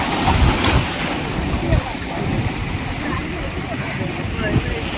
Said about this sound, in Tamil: அலை வந்து போகும்போது நல்ல பெரிய அலை வரும்